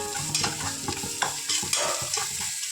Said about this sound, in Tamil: இப்போ அரைச்சி வச்ச விழுதை கலந்துக்கணும் கலந்து நல்லா வதக்கணும்